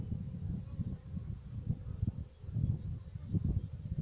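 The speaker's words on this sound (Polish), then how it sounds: "pszczół jest dużo, część jeszcze w polu" A dense, steady drone of many honey bees buzzing close by at an open hive, a low, wavering hum with a faint high whine on top.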